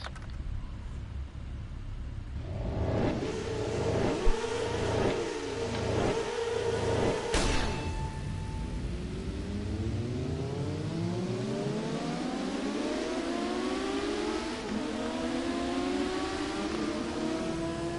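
Racing motorcycle engines from the TT Isle of Man video game on PS4, revving hard and changing gear repeatedly, with rising and falling engine whines as bikes pass, loud and continuous without talk.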